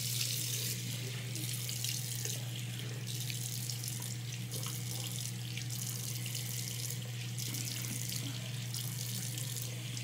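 Cold water runs steadily from a bathroom sink tap into the basin, a continuous close splashing gush with a constant low hum beneath it and no speech.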